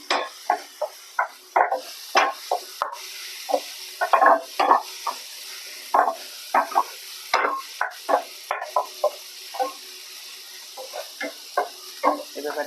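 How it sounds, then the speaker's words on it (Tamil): Ginger garlic paste, shallots, green chillies and curry leaves fry in hot oil in a pan, a steady sizzle broken by many short, irregular scraping stirs throughout, close and moderately loud with no talking. "நல்லா இஞ்சி பூண்டு பேஸ்ட் போட்டு நல்லா எண்ணெயிலே சுருள வதக்கி கொடுங்க."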